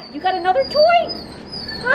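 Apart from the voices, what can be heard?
dogs barking and whimpering outdoors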